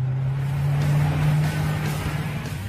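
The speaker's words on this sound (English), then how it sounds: "When you fire up the engine, of course, the cabin fills with engine sound." A 5-litre supercharged V8 car engine idles and revs with a deep, steady low rumble and a strong bass hum, close and continuous, swelling slightly then settling.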